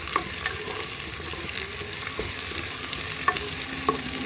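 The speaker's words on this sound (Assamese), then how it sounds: "তেলত ডাইৰেক্ট দিলে ফুটি আহে" Whole spices sizzling in hot oil in a pressure cooker for chicken and egg biryani, a steady crackling fry with a few sharp pops and light stirring.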